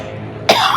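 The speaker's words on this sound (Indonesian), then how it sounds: "aduh batuk lagi" One sharp, loud cough breaks out close by after a quiet room tone.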